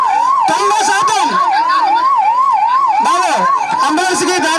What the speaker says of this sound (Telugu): బాబో అంబులెన్స్ కి దారి ఉంది